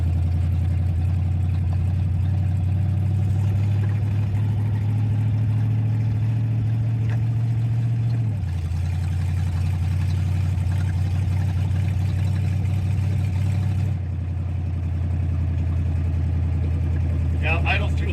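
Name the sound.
car engine idling too high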